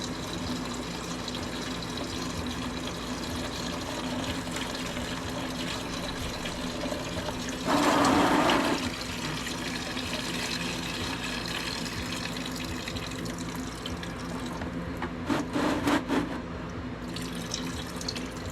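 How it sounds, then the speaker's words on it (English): Coolant draining from a radiator hose on a 1991 Ford Ranger with a 2.9L V6; a faint, steady trickle of liquid runs throughout, with a couple of louder splashing gurgles partway through. "So now we're getting all the coolant out of the motor as well."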